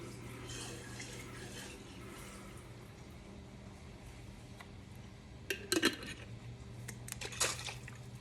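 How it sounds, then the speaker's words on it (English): Water poured from a jar into a pot of pasta sauce on the stove, a faint low hiss under a steady hum, then a few brief splashy bursts near the end. "And add some water to this."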